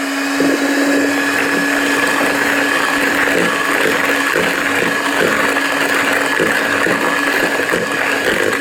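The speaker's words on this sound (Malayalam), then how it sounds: "ഞാൻ മിക്സർ എടുത്തിട്ട് വന്ന് നമുക്ക് മിക്സ് ചെയ്യാം" An electric mixer beats dalgona cake batter in a continuous, loud, close whir that holds steady throughout, with no speech over it.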